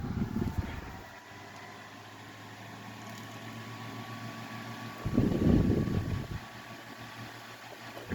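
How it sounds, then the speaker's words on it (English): A vintage Lakewood model 900A electric fan runs on high with a steady whirring hum and faint whine, overlaid by two brief louder rumbling bursts of handling noise near the start and middle. "the sound of this fan reminds me of an old hair dryer"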